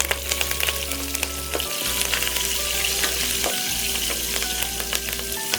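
Asafoetida and curry leaves sizzle in hot oil as a tempering for cucumber chutney, a steady close crackling hiss with scattered pops and a low hum underneath throughout.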